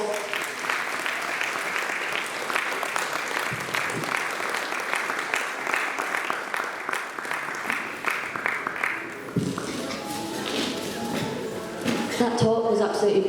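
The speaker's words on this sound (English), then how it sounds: "could you please give her another round of applause?" Audience members at a women's event in Bradford applaud a speaker, a sustained round of clapping that holds steady before thinning into scattered claps near the end.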